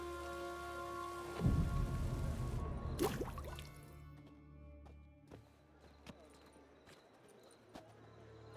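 Steady rain patters on surfaces in The Witcher 3, a dense hiss heard up close with sharp splashes and knocks scattered through it, and a few low rumbles early on.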